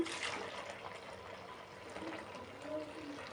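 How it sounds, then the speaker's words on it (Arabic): Milk is poured from above onto a bowl of dry pizza dough ingredients in a home kitchen, making a soft, continuous splashing trickle for a few seconds under a faint background hum. "هنحط اللبن"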